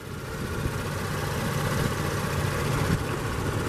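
A GM 3.6 liter V6 in a 2017 Chevrolet Traverse LT AWD runs steadily at idle, a constant low engine hum with a faint vibration heard close up under the open hood, with no talking.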